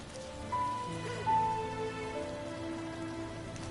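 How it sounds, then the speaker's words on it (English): Steady rain in the video game Rime, an even, moderate patter on surfaces with soft game music tones above it, continuous and unbroken without voices. "The rain is so relaxing."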